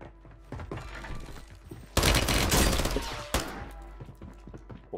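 A mounted .50 cal machine gun fires in MW3 Warzone: a loud sustained burst of heavy automatic fire, framed by scattered shots and thuds before and after.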